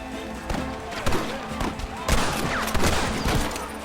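Gunfire in Red Dead Redemption: scattered rapid shots crack in bursts through a western shootout, near and far, with shouting voices in between.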